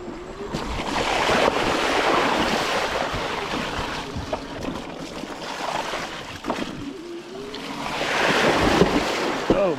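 A hunting e-bike ploughs through large puddles, producing a steady washing, splashing rush of water over wind noise, with surges at the start and again near the end.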